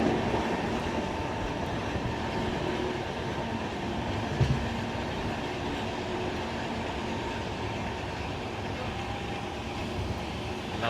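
Inside a crowded general coach of the Vivek Express, the running train gives a steady rumbling roar with a faint rhythmic clatter of wheels on the rails, continuous and without talk.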